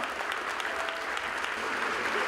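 Audience applause at a sailing awards event, loud, dense and sustained clapping throughout.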